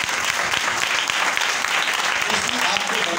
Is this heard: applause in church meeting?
yes